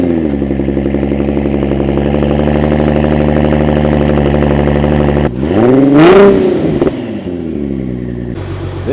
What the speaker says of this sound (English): but first, let's get a cold start.